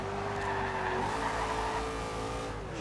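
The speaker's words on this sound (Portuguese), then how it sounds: "Ó, quase 300 por hora com esse carro" A Dodge Charger skids at high speed in the video game Forza Horizon 2, with a sustained loud tire squeal over the roaring engine and no talk.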